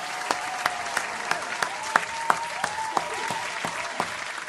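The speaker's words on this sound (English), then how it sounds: "A round of applause to family love" Sparse clapping with sharp separate claps at a steady pace over a hissy background, sounding like a few people or a looped applause effect, no voices.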